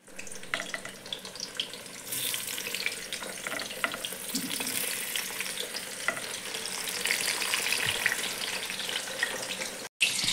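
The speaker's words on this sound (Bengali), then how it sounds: "এখানে আমি বেগুন ভাজাটা ভেজে নিচ্ছি ভোগের" Brinjal slices fry in a pan for a Lakshmi Puja offering, giving a steady bright sizzle with a few stirring clinks, cut off briefly near the end.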